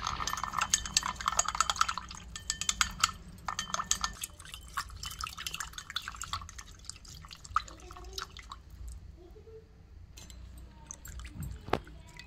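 A spoon stirs rice bran oil into a pot of water with rice at home, giving a run of close clinks, drips and liquid sloshes that thin out toward the end with a final knock.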